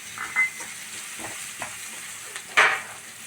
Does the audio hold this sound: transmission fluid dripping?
no